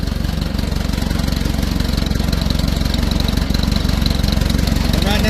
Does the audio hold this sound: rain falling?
no